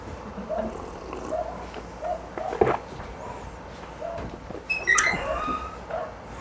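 A dog, restless lately and barking often, gives a few short yips and whimpers at moderate distance, scattered across the stretch with quiet gaps and a sharper burst near the end.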